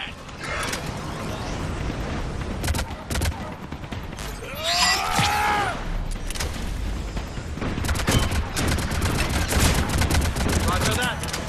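Sustained cover gunfire in the game Mass Effect 3: heavy, continuous bursts of automatic weapons and rapid shots, loud and close throughout, with sweeping effects partway through and voices mixed into the battle.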